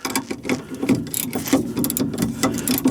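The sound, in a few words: removing 14 mm strut bolt on a Honda Civic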